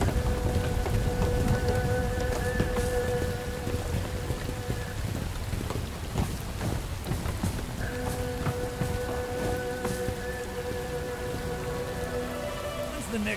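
Steady rain pours throughout a scene in the video game Bright Memory: Infinite, a dense hiss of drops on surfaces with occasional sharper patters, while tonal game music drones underneath.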